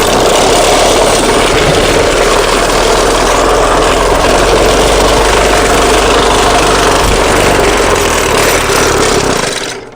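A brick block-making machine in Gujarat runs loudly up close, a dense, continuous mechanical rumble and vibration for about ten seconds before cutting off at the end.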